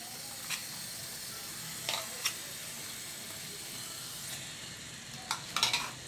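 Frozen homemade condensed milk dropped into a hot kadhai for pethe ka halwa gives a steady, soft sizzle throughout, with a few brief louder crackles near the end.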